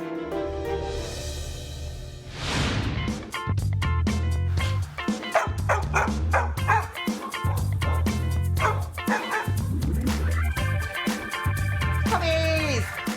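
Feral puppies in a temporary kennel bark and yip in rapid, repeated bursts, with whimpering cries mixed in; the chorus is close, loud and nearly continuous, with an animal shelter setting.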